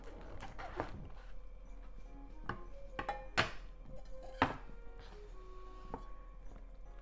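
Knife trimming the base off shimeji mushrooms on a cutting board in a home kitchen, a few sharp, separate knocks and clicks spaced irregularly, quiet and close with faint clatter between them.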